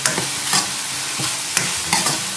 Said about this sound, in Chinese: 炒好以后再下入我们的蒜苔和蘑菇，把它们快速的翻炒在一起，